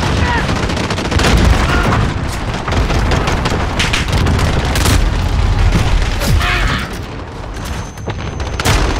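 Cluster strike explosions in a Call of Duty Modern Warfare team deathmatch, a rapid barrage of loud booms and blasts mixed with gunfire, dense and continuous.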